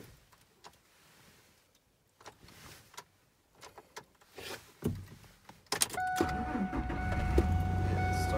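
A car engine cranks and catches, then settles into a steady running idle that carries to the end, preceded by a few scattered clicks and handling noises.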